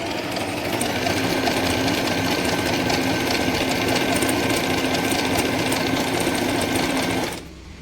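A Singer Simple 3223 sewing machine stitches steadily and loudly at close range, a continuous fast mechanical whir with rapid needle clatter for about seven seconds before cutting off abruptly.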